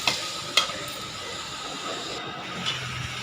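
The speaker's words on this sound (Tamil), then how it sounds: "அதை நல்லா மிக்ஸ் பண்ணிவிட்டு நல்லா வதங்கட்டும்" Pirandai (adamant creeper) is stirred and sautéed in a pan, producing a quiet sizzle with a couple of sharp utensil scrapes near the start and one later.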